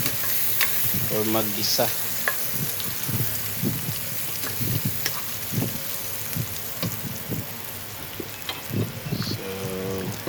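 Tuna tail sautéing in a pan with garlic, onion and ginger, giving a steady close sizzle and frying crackle with repeated scraping stirs, while a voice speaks briefly over the cooking.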